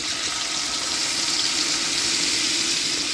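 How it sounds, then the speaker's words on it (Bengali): Water poured into a pan of golden-brown onions, frying for a Kolkata-style biriyani, gives a loud, steady, broadband sizzle and hiss that holds evenly throughout, with no voices. "এর মধ্যে দিয়ে দেবো জল"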